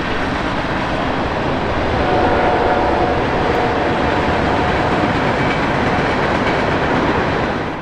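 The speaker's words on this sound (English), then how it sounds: "Oh wow, it's a train behind me." A continuous loud rumbling roar of a passing train holds steady for several seconds, dense and close, with faint rhythmic clatter beneath.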